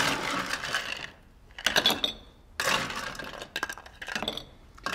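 Ice cubes dropped into a glass for a caipirinha, giving several bright clinks and rattles in clustered bursts, close and fairly loud with short gaps between.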